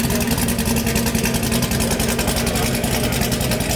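Swapped 1000+ horsepower engine in a Camaro running, a loud, continuous rough idle with a throbbing, choppy exhaust pulse and no voices over it.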